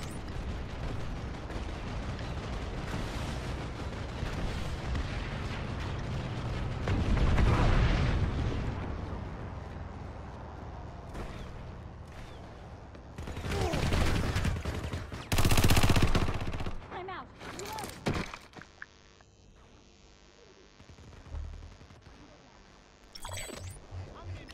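Heavy gunfire and explosions from the Planetside 2 battlefield, the NS-7 PDW among the weapons, with bursts and blasts rising and falling over about twenty-five seconds, loudest in several dense volleys, with shouted voices mixed in.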